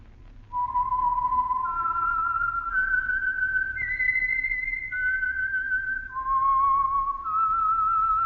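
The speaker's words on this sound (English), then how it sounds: "the signal to listen for is this whistle that identifies the Signal Oil program" A lone whistled melody rings out clearly, a slow rising and falling tune of sustained pure notes stepping between pitches over a low background hum, the signature whistle that opens the Signal Oil radio mystery program The Whistler.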